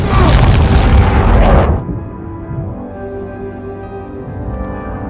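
A huge, loud explosion with a broad roaring blast for about two seconds, then a low rumbling tail fading under quieter sustained tones.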